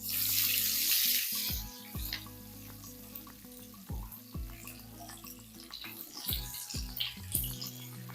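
Halved garlic cloves fry in oil in a pan with a bright sizzle that fades after the first two seconds. Several soft utensil knocks and clinks follow at irregular intervals, with no voices.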